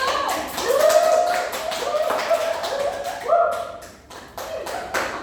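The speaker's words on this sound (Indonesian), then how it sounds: "Tepuk tangan dulu." A classroom of students claps in bursts during a micro-teaching speaking lesson, with sharp individual claps mixed with excited voices calling out over them.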